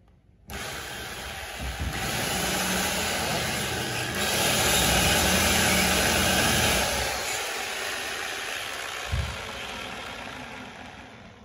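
An electric 220V rotary hammer switched to wood-drilling mode runs with a steady, loud motor whine and broadband buzz, starting abruptly, holding for about ten seconds with slight swells, then cutting off.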